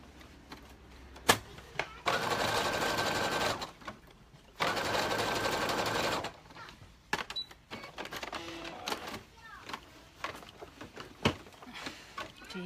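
Home sewing machine stitching fabric in two loud sustained bursts of rapid whirring, then a few short stops and starts with clicks and handling noises, fairly close by.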